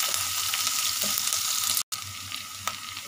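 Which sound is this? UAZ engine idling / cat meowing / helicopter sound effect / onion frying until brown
onion frying until brown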